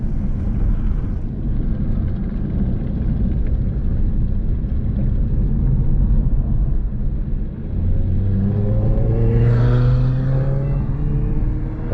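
A Tesla Model S P90D pushed hard at its drift limits produces a loud continuous rumble of road and wind noise, with a rising electric motor whine near the end.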